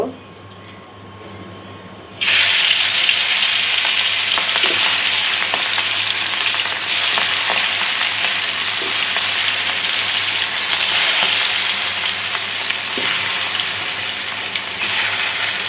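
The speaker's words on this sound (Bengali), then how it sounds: "ডেললে গরম হয়ে গেছে এখন ইলিশ মাছ ভাজাটা দিব" Marinated hilsa fish drops into hot oil in a wok, and a sudden loud, dense sizzle bursts in and keeps going steadily and close up, with occasional pops and faint scraping.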